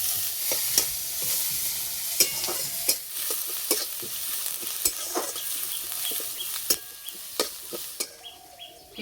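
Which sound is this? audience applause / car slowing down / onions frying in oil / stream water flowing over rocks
onions frying in oil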